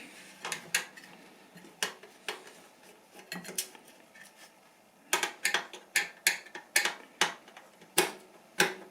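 Screws being removed from an Acer monitor during disassembly: close, sharp metallic clicks and ratcheting ticks from a screwdriver, sparse at first, then a quick regular run of crisp clicks toward the end.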